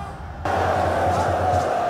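Large crowd jubilating at a staff-of-office presentation ceremony at the historic Mapo Hall in Ibadan, a steady, loud wash of massed voices and cheering that swells in abruptly and continues without a break.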